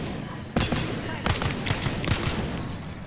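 Wingman pistol fire in the Apex Legends battle royale: several sharp, heavy single shots spaced unevenly about half a second apart, close and loud over a steady background hum of game ambience.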